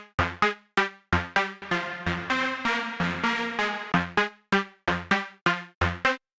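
A plucky synth lead plays a series of short, sharply decaying notes in a steady rhythm, with a brief legato stretch in the middle, loud and alone with no talking.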